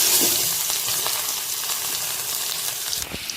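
Steady, loud sizzling of chopped garlic frying in hot sesame oil for pickle, a continuous crackle with occasional pops and a brief stir near the end.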